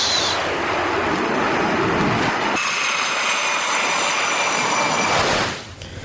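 A US fighter jet engine roars loud and steady for most of the span, broad and sustained, then drops away sharply near the end.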